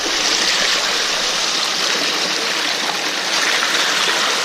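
Water rushing steadily through a gold-prospecting sluice box with a reverse-ramp ripple and flap, a loud, continuous close-up roar of flowing water with no breaks.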